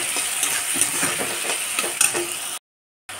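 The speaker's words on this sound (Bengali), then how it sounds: "বেটে রাখা মশলাটা আমি এর মধ্যে দিয়ে দিলাম, দিয়ে ভালো করে কষিয়ে নেব।" Ground spice paste fries with browned potatoes for a banana-flower ghonto, giving a steady close sizzle with scraping stirs. It cuts to silence for a moment near the end before resuming.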